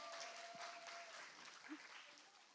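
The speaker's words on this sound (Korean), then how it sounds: "박수." Faint audience applause at a university nursing academic festival, a soft continuous patter of clapping with a few whistles or squeaks and brief murmurs in the room.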